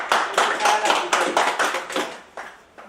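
Audience applause for a doctor being introduced at an environmental education talk, heard as a series of bursty clapping swells that rise and fade in waves over a few seconds, close and fairly loud, with some voices mixed in.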